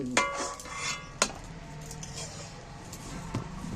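Boiled eggs and tomatoes being scooped out of cooking water, with a few sharp clinks of a utensil against a pot and soft watery clatter between them, close and fairly quiet.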